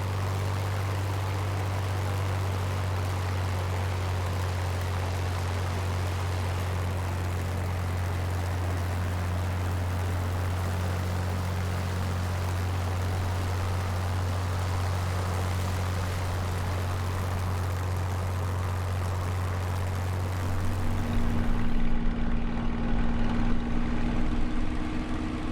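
A Spitfire Mk IXc propeller engine drones steadily in Microsoft Flight Simulator, a low constant hum with a higher whine, until the tone shifts near the end; no voices.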